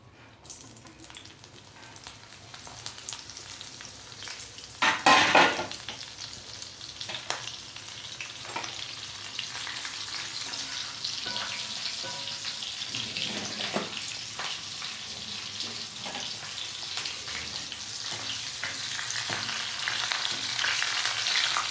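Green chillies crackle and sizzle in hot oil, with a sharp burst as they hit the pan and then a steady frying hiss, stirred now and then, while the oil is readied for a Bihari-style fish curry gravy.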